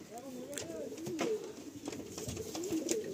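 Pigeon cooing in a loft of breeding-ready birds, soft repeated low coos rising and falling across the stretch, with people talking nearby over them.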